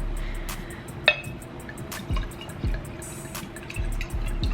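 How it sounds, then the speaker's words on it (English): Wine poured into a glass indoors, a soft close trickle of liquid with a small clink of glass near the start and a few faint knocks, quiet and without talk. "let me pour up, okay?"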